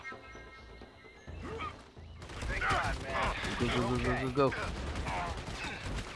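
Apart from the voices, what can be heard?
gunfire in video game Army of Two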